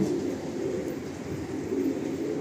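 Madrasi and Andhra pigeons coo steadily at a breeder's stand, a continuous low, throaty murmur lasting the whole stretch with no talk over it.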